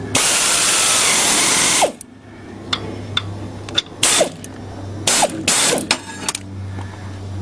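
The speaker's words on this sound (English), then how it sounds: "Now just to put the crankshaft bolt on." A ratchet tightens the crankshaft bolt on a lawn tractor engine. A loud, steady broadband whir fills the first two seconds, then sharp intermittent clicks and short bursts follow close by, with no talking.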